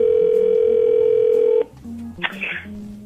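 A steady telephone dial tone holds for about a second and a half, then cuts off as a phone scam call begins, leaving quiet line noise and a brief click.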